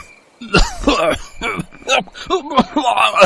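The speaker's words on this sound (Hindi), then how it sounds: "दोनों चोर तेज तेज खांसने और छींकने लगते हैं।" Several harsh, rough coughs and throat-clearing bursts in quick succession, loud and close, with voiced gasps between them, as two people choke on chili in the air.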